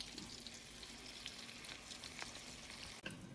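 Steady, quiet sizzling of chicken thighs frying in hot oil, a continuous crackle with small pops and no voices.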